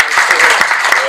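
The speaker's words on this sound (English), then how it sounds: "Give him a round of applause." A crowd in a convention panel room at StocktonCon 2018 bursts into a brief, loud round of applause, dense clapping close by that lasts only about a second.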